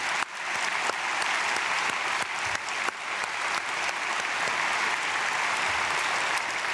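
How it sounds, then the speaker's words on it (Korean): A church congregation at a Korean early-morning prayer service claps together in blessing, a dense, even burst of applause that starts sharply and holds steady. "우리 박수로 축복하겠습니다."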